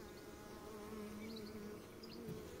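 Honeybees buzz steadily at a Kenyan top-bar hive, a close, continuous droning hum with small shifts in pitch as individual bees pass near.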